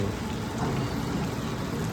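Continuous rain in Pune patters and hisses evenly, close and fairly loud, with no talking.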